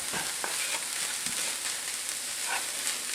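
Ground hamburger meat frying in a pan on high heat gives a steady, dense sizzle with soft crackles throughout, close and continuous with no talking.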